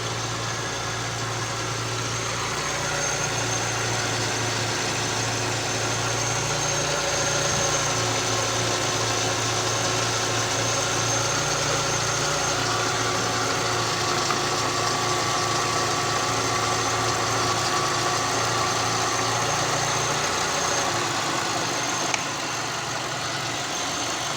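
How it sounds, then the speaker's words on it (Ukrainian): An Audi A3 8P with a 1.6 MPI petrol engine idles steadily for the whole stretch, a close, even hum with a faint vibration after thermostat and temperature sensor replacement, and no voices. "Закрутив кришку, одразу помінялась робота двигуна"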